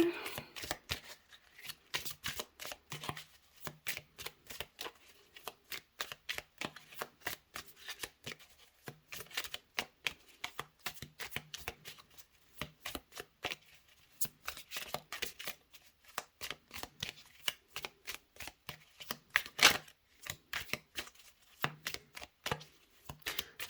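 Tarot cards being shuffled by hand during a card reading, a long run of dense, rapid riffling and flicking bursts at close range that pause briefly and then resume, with no voices.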